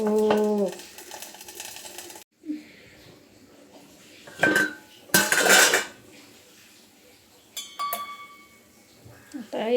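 A lid goes onto a pan in a home kitchen with coconut chutney on the go, giving several sharp metallic clanks and clatters of pots in separate bursts between quiet stretches, and a voice speaks briefly near the start.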